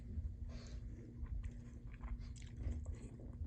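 Someone bites into and chews homemade tortelloni with spinach, sauce and shaved Parmesan, producing close, soft crunching and mastication sounds in irregular bursts with no talking.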